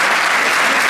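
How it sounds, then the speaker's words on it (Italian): Loud, dense applause from an evening event audience for the host, a continuous wash of many hands clapping at once with no voices over it. "Facciamo un applauso a lei."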